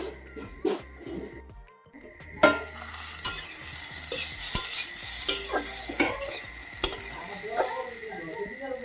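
Radish and fish masala being sautéed in a pan, with steady sizzling under repeated scraping and stirring strokes of a spoon against the metal, close and moderately loud throughout.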